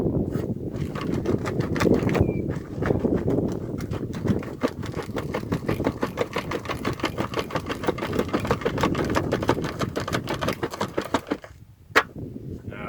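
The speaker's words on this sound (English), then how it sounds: "I like to shake it up just enough to get lots of bubbles and stuff." Laundry bucket holding water, soap and rocks, shaken hard outdoors in a field, giving a steady rhythmic sloshing churn with dense rapid pulses, close and continuous for most of the stretch, pausing briefly near the end.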